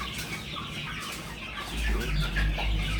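A flock of farm chickens clucks at feeding time, a dense, continuous chorus of overlapping clucks with rustling and a heavier low rumble in the second half.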